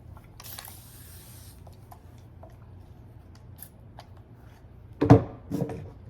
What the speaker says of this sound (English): Spray a little bit of water.